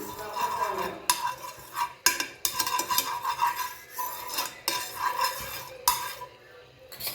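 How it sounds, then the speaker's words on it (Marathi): Ghee is spread around a hot pan with a utensil, making repeated close scraping and clinking strokes in bursts with short pauses, over a faint sizzle; no voices. "त्याच्यामध्ये टाकते आहे तूप हे तूप जे आहे संपूर्ण याच्यावर फिरवायचं"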